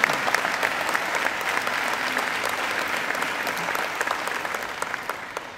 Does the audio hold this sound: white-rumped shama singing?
no